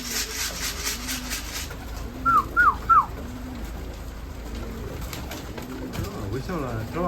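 Pigeons cooing during their moult, a few soft low coos and three quick rising calls, heard over steady outdoor background noise.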